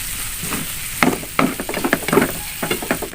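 Green beans, egg and tempeh stir-fried in a pan, with repeated sharp scrapes and clacks of a spatula over a constant sizzle, the strokes coming in an uneven rhythm, close and loud.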